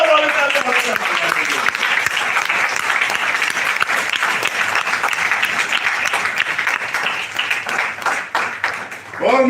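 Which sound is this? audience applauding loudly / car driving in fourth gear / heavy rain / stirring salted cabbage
audience applauding loudly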